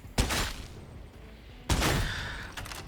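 A heavy stubber machine gun fires in a video game, two loud booming bursts about a second and a half apart, each trailing into a rumbling echo.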